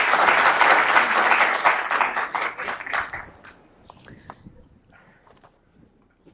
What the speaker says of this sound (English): So please welcome Cherie with a round of applause